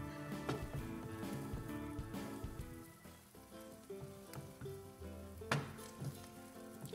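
An egg fries in a pan, giving a continuous soft sizzle and crackle with scattered pops, fairly quiet and steady throughout with no talking.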